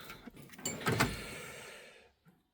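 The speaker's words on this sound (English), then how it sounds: "If you push them, there you go, they soft close." A soft-close drawer on a Halfords Advanced 36 inch tool cabinet slides shut with a smooth rolling whoosh and a muffled, cushioned landing, close and fairly quiet, followed by a brief faint knock.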